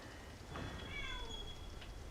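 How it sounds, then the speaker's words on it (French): A cat meows softly in a video game's ambient scene, a few faint, drawn-out mews over low background noise, heard alone. "Oui, on sait que t'es là, le chat."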